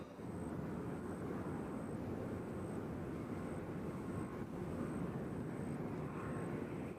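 An airplane at Nashville International Airport gives a continuous broad roar of engine noise that holds steady throughout, with a thin high tone running above it.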